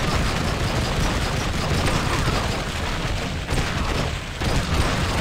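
Pistol fire in True Crime: Streets of LA comes as a dense, continuous barrage of game gunshots, loud and sustained throughout with little pause.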